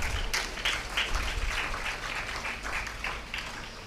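An audience of women applauds in approval, a steady, dense wash of many hands clapping throughout, fairly loud and close with no voices on top.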